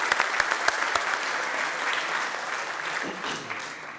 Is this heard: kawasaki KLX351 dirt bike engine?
no